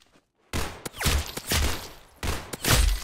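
Rapid gunfire bursts in the Roblox game Arsenal, loud and close, a few sharp shots followed by sustained volleys with a brief gap between them, no talking.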